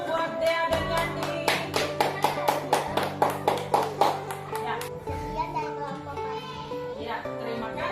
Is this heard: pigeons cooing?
no